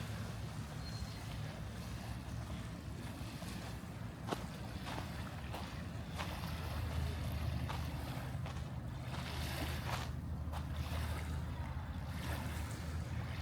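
Low steady engine drone of boats on a lake near Mount Fuji, Japan, with faint wind and lapping waves, continuous and moderately distant.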